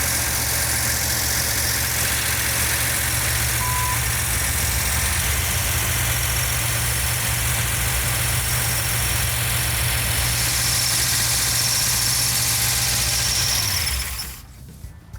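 A 1970 Dodge Challenger R/T with a 440 Six Pack engine idles loud and close in a steady, even rumble with ticking valves, then shuts off abruptly near the end.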